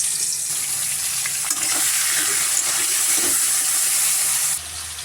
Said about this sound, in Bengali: মাছগুলো কড়াইতে দিয়ে দিচ্ছি।